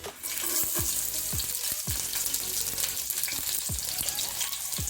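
Green chilies sizzle and crackle in warm oil in a pan, a steady close frying hiss with small pops scattered throughout, no voices.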